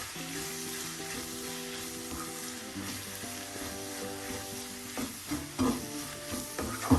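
Squid masala sizzles steadily in a hot pan as it is stirred and sautéed, a continuous frying hiss with occasional spoon scrapes and taps toward the end.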